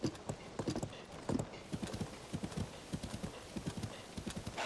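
Horse hooves clip-clopping in Zelda: Tears of the Kingdom, a steady run of close, crisp hoof beats with a brief whinny near the start.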